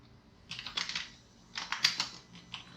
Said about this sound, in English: After opening the terminal, you have to just type sudo